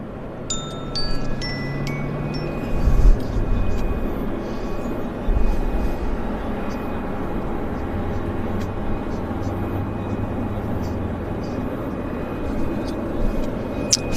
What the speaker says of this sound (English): Got another aircraft coming in here, guys.